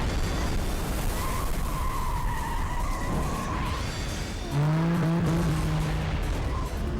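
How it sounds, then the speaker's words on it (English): Tires squeal steadily through a drift as a race car boost-drifts in the Cruis'n Blast arcade racing game on Nintendo Switch, with a rising electronic boost whine over a dense roar of engine and game sound, growing louder toward the end. "this has like Mario Kart style, like boost drifting"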